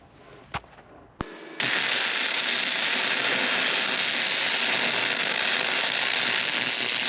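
First attempt at welding steel rock sliders: after a couple of sharp clicks, a loud, steady crackling hiss starts abruptly and runs unbroken to the end, close to the listener.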